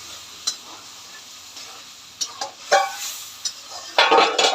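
Spices being stir-fried in a pan for about 1 kilogram of food, heard as intermittent scraping and clinking of a utensil against the pan over a low sizzle, with a few sharper stirring bursts near the end.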